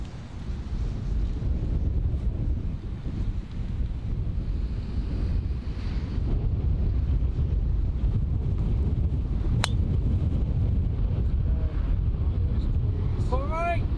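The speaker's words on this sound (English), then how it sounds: "It is seriously windy today." Strong wind on a golf course buffets the microphone in a constant, loud, rumbling roar that runs the whole time, with brief faint sounds and a muffled voice near the end.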